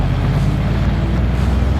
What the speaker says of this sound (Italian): Sentite che motore, sentite!